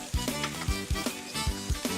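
Onions, celery and bell pepper fry in a pot for a Cajun sauce piquante, with a steady sizzle under repeated close knocks of a spoon stirring against the pot.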